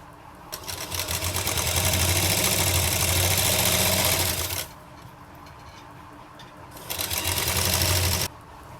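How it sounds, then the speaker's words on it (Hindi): An electric sewing machine stitches fabric for a wrap palazzo trouser, running a seam with a half-inch gap. It whirs loudly and steadily for about four seconds, pauses, then runs again for a shorter burst. "हम यहाँ पर 1/2 इंच का गैप रखते हुए हम सिलाई लगाएंगे"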